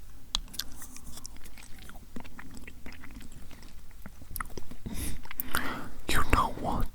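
ASMR roleplay of an alien eating: close, soft chewing and crisp biting crunches in irregular bursts, mixed with hushed whispering, growing louder and wetter toward the end.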